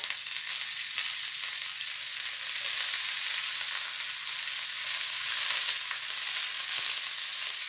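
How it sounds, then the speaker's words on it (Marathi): Garlic, chili and coriander fry in a pan for a thecha chicken liver dish, a steady close sizzle with fine crackle that holds even throughout, with no talking. "आपला लसूण आणि मिरची इकडे छान व्यवस्थित फ्राय व्हायला सुरुवात झालेली आहे"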